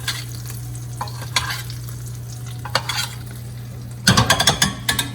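Butter sizzles in a pan while hasselback butternut squash is basted, a low steady hiss broken by spoon clinks and a closing run of sharp scraping taps against the metal.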